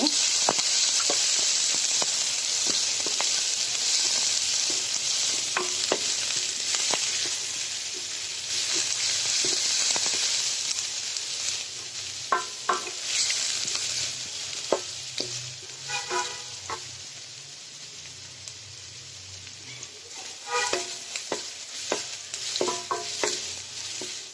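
Onions and chopped green chillies fry in hot oil for samosa filling, a steady close sizzle with repeated spatula scrapes and stirring clatter throughout, no voices.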